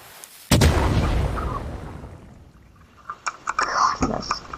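Fireworks explode in the Fireworks Mania game: one sudden loud boom rolls off into a decaying rumble, then a cluster of sharp crackling pops and bursts follows a few seconds later.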